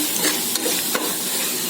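Biryani masala stirred in a pot for a mutton biryani, a steady scraping, sizzling churn with a couple of sharper scrapes, close and fairly loud, no voices.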